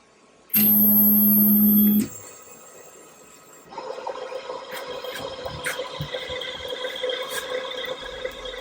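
An xTool DTF apparel printer priming ink through its tubes: a loud steady electronic tone for about a second and a half, then a low motorized pumping hum that settles into a continuous mechanical whir with faint clicks.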